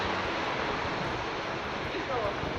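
A river rushes past a riverside restaurant with a small footbridge in Bosnia, a steady broadband wash of flowing water that fills the whole stretch, loud and continuous with no voices clearly heard.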